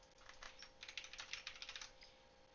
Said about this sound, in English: My loud ass keyboard.